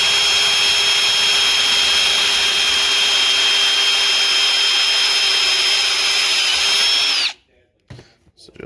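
Power tool whining loudly and steadily up close while enlarging holes in a metal transmission block-off plate, then cutting off abruptly, followed by brief quiet handling noises.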